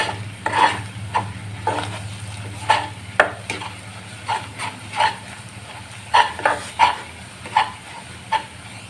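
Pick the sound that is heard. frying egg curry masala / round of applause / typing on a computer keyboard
frying egg curry masala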